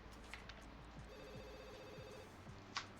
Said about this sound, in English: Of course, the phone has to ring and Lucy's going to work.